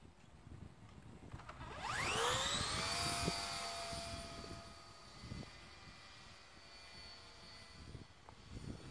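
An F5J model glider's electric motor spins up sharply into a rising whine with bright harmonics, then holds a steady high drone that slowly fades as it climbs away.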